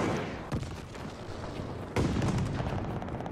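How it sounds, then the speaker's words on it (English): Gunfire in Call of Duty Vanguard on console: two sharp nearby shots, then a rattle of further shots over a rumbling battlefield background. "What the fuck is that shooting?"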